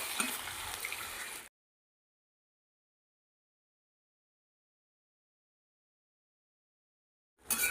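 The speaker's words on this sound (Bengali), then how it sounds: "বন্ধুরা, খুব ভালো করে ভাজানো হয়ে গেছে মশলার সাথে" A pan of ridge gourd, potatoes and fried prawns sizzles with mustard spice paste. There is a short burst of frying at the start, then near silence, and the sizzle returns briefly at the end.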